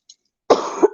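One harsh, close cough burst after a brief near-silence, short and loud with a second rough push at the end.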